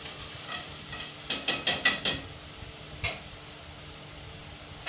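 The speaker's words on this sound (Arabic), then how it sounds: "هدي الحله تقليبه على النار" A spoon stirs a pot of chicken on a stove, giving a quick run of five sharp metallic clinks against the pot, then a single clink and quieter scraping, with no one talking.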